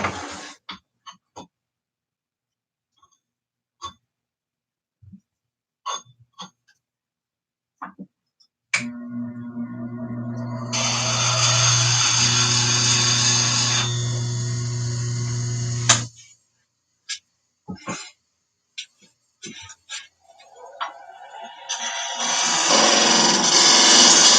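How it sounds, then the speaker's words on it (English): Woodturning tool being sharpened on a grinder: a motor runs up and holds a steady whine with a bright grinding rasp for several seconds, surrounded by scattered handling clicks and knocks, then a second grinding pass near the end. "going to sharpen this tool real quick"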